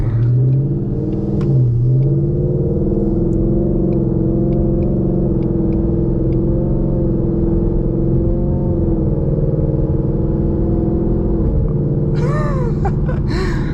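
A 2020 Ford Mustang GT with a Borla S-Type cat-back exhaust revs hard with a deep, loud exhaust rumble that holds steady, then rises sharply in pitch near the end.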